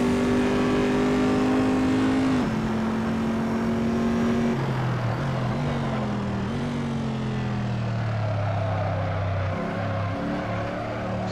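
A loud, continuous Corvette C7R race car engine in the game Assetto Corsa roars and shifts pitch as it revs up and down through gear changes on a hot lap, with no talking.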